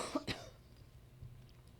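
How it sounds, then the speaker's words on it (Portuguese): A person coughs twice in quick succession, a short harsh burst close to the microphone followed by quiet room tone. "Tô tossindo"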